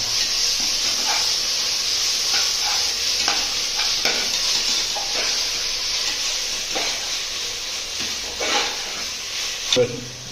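Ginger garlic paste sautés in a pan with a steady, bright sizzling hiss throughout, punctuated by soft scraping stirs of a spatula near the end, close and fairly loud.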